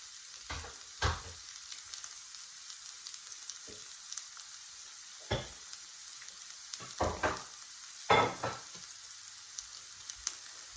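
Peppers softening in oil in a frying pan give a steady low sizzle, broken by a few louder bursts of stirring and scraping as they are moved around.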